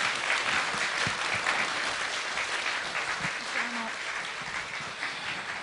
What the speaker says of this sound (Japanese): 拍手でお送りください。